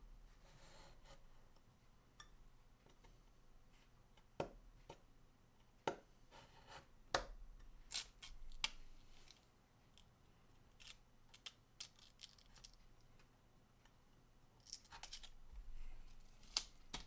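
A window hole is cut out of a small Disney dolls house wall panel laid flat, producing irregular close, quiet clicks and scraping cuts, sparse at first and then clustering in bursts.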